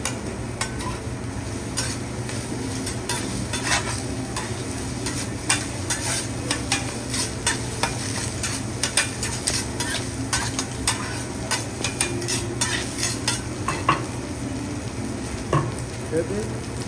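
Garlic butter sizzling on a hot hibachi grill at a restaurant, a loud continuous fry with the repeated scrape and tap of a spatula stirring close by.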